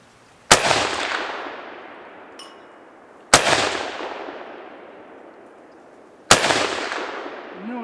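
Three loud, sharp rifle shots from a Ruger Mini 14 Ranch fired at an outdoor target, spaced a few seconds apart, each with a long echoing decay across open ground.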